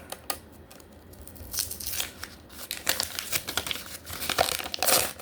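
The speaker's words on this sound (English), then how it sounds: "will remove the paper" Paper rustles and crinkles close up in a church warehouse, with tearing and crumpling sounds as paper is removed, coming in bursts that grow busier and louder toward the end.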